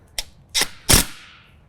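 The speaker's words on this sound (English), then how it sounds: "we'll get our 10mm wrench, get that on" A 10mm wrench working a bolt on a string trimmer mounting kit for a John Deere Z735M zero-turn mower, three sharp metallic clicks in quick succession, close and crisp, the last one ringing out briefly.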